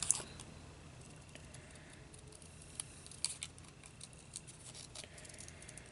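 Scissors snip a paper shell shape for a beach-themed card, a few faint, scattered crisp cuts over quiet room hiss with no talk.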